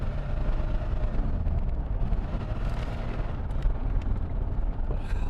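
A cheap, broken DeLorean driving with its engine cutting out, heard from inside as a loud, dense rumble of engine and road noise that surges and roughens unevenly throughout.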